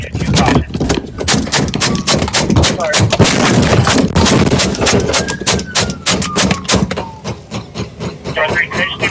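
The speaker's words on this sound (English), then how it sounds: "Shots fired." A police shootout produces loud, rapid bursts of gunfire that crack and echo over radio chatter and shouting, with engine noise underneath, in a dense, chaotic barrage.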